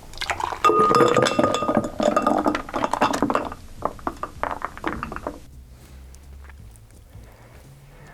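A cocktail is free-poured and splashes into a glass, with ice clinking loudly at first, then the flow thins to quieter trickles and drips before falling silent.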